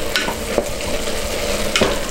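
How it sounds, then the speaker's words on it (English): Homemade chili being stirred in a pot, a few scraping strokes of a spoon against the pot over a steady low simmering hiss, with no voices. "And I'm gonna stir"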